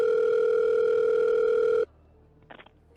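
A steady, loud telephone dial tone from the Orient Express murder-mystery video game hums for almost two seconds and then cuts off abruptly, leaving quiet with a brief faint click after.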